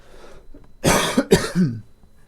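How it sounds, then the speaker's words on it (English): A couple of harsh, close coughs in quick succession, followed by a short throat-clearing rasp, with quiet background hum around them. "got a bit of a cough"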